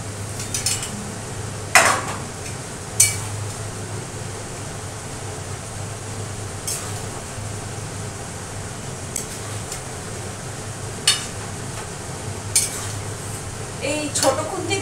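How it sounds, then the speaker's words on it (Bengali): Chicken and potatoes stir-fried in a pan, a spatula scraping and clinking against the metal in scattered knocks over a steady low sizzle and fan hum, close by, with no talking. "এবার চিকেনটা কষতে থাকি ভালো করে।"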